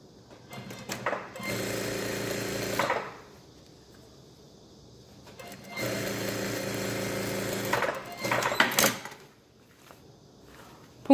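A sewing machine stitches a seam on women's shirt fabric in two long, steady bursts of rapid mechanical clatter, with a quieter pause between them and a few short clicks and shuffles toward the end.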